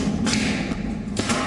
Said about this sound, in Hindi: असली राइफल की जगह पेंटबॉल गन।